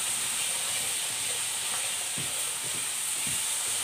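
Potatoes sautéing in a pan for egg curry, a steady soft sizzle and hiss with a few faint stirring scrapes, close and continuous with no talking.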